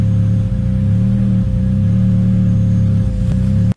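A cold turbocharged S06 car engine idles steadily in chilly weather, a loud, close, even rumble with a low throbbing pulse, running alone until it stops abruptly at the end.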